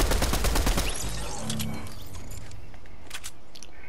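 Video game gunfire: a dense, loud burst of rapid shots in the opening second, then a few faint, scattered distant shots.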